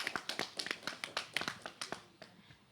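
Scattered applause at a Gohou Michel show for Monsieur Haïtou, a few people clapping in a loose, uneven rhythm that thins out and fades toward the end.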